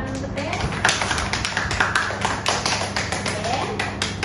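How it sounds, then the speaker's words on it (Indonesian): Students clap for a classmate in a primary school art lesson, a run of distinct hand claps over steady room hum, moderately close, with voices talking in the background. "Tepuk tangan"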